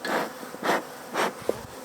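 Honey bees in an opened hive on a cold day give off a raised, agitated buzzing that swells in several loud bursts over a steady, nearby insect drone.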